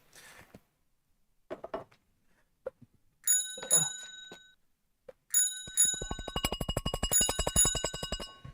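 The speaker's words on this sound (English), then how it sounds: "Ronnie, ring your bell." A handheld bell rung on a live stock-trading show, first a few scattered dings, then a sustained rapid ringing burst of many quick metallic strikes toward the end.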